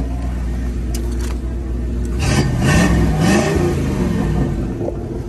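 A 1984 Chevrolet Monte Carlo SS on 28-inch wheels, its engine idling loudly up close and then revving up briefly in the middle before settling back to a steady idle.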